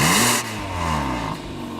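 A 2016 Hyundai Sonata SE with a 2.4-liter four-cylinder engine accelerating hard from a standstill. A loud rising rev is followed by a steady, sustained engine drone as it pulls forward, with no talking.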